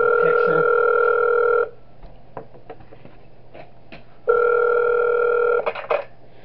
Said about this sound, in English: Let me do the phone call.